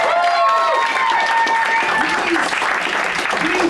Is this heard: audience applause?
yes